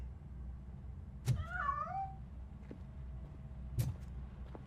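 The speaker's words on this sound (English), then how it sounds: "That cat must be hiding inside." A cat in the video game RoboCop: Rogue City gives a drawn-out, wavering meow near the start, with faint background ambience and a brief soft thump later; no voices.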